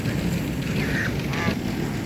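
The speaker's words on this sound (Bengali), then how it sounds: "সুন্দর রাজহাঁস।" A domestic goose at a village house honks a couple of times over a steady outdoor background hum, the calls moderately near and short.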